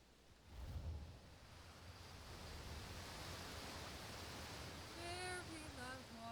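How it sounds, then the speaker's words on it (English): A very loud waterfall roars as a steady, broadband rush of water, continuous throughout with faint tonal game sounds near the end and no talk. "Very loud waterfall."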